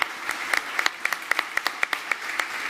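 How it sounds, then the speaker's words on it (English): Sparse, distinct handclaps from a small audience at a South Summit 2022 panel on the Playground Stage, irregular and moderately near, fading in and out without talk. "give an applause to our panelists"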